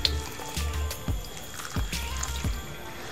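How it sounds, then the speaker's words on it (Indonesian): Water poured onto the potting media of freshly planted peperomia watermelon leaf cuttings, a soft close trickle and splash in several short bursts with brief pauses between them. "Untuk semua media tanam yang sudah kita pakai itu langsung kita siram ya semuanya"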